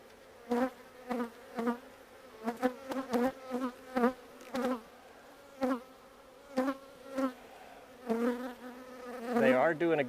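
Honey bees buzzing at a hive, with close individual bees passing in separate bursts over a faint steady hum, alone.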